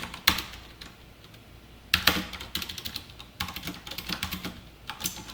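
Typing Python code on a computer keyboard: bursts of close, clicky keystrokes in short clusters separated by brief pauses, with no talking.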